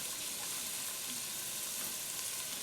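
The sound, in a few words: sauteing minced garlic for venison chili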